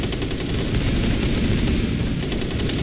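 Rapid, dense automatic gunfire in the video game Rainbow Six Siege, a loud continuous rattle of shots filling the whole moment.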